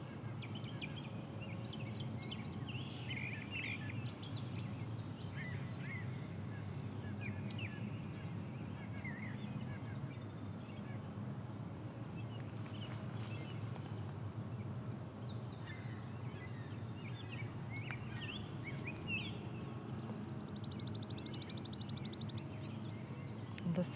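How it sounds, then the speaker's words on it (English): Birds sing and chirp outdoors on a peninsula, scattered short calls repeating at a distance over a faint steady background hum. "Listening to the birds, that's the joy of it after all."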